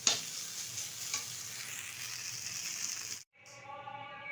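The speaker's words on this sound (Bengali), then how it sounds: "চিড়েটা কিন্তু ভালোভাবে ভাজা হয়ে গেছে" Flattened rice (chira) frying in a kadai, stirred continuously with a spatula, makes close dry sizzling and scraping that breaks off briefly before more stirring resumes.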